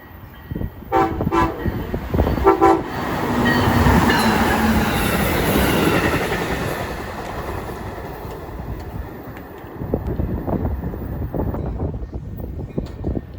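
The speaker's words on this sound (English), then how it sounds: "it was time for Amtrak 381, the Carl Sandburg, to make its way through Route 59" An Amtrak passenger train rolls past close by at a suburban Chicago station, its horn sounding briefly at the start, wheels rumbling loudly before the noise gradually fades.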